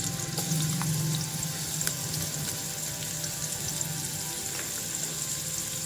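Crushed garlic frying in about three teaspoons of oil in a pan for chicken tikka macaroni gives a steady close hiss and sizzle, with a faint running-water wash and a few small clicks, and no voices.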